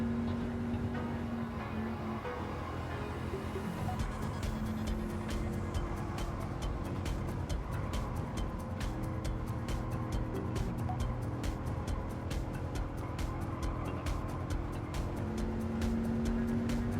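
Race car engines drone steadily in Gran Turismo 7 while overtaking other cars in a Ford collection race, a continuous loud motor whine with gear-shift tones under rapid ticking game sounds.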